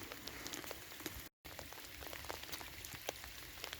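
Steady rain pattering on a wet estuary shore, a dense continuous hiss with scattered sharper drops, broken by a brief silent gap.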